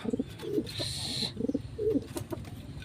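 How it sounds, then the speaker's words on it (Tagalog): Young pigeon squab giving soft, repeated coos in short bursts, fairly close, with a brief higher whirring tone partway through over faint background noise. "Mga kalapatids, yan ang inakay."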